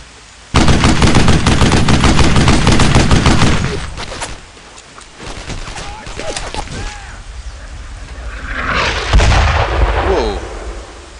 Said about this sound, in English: It's a mortar team!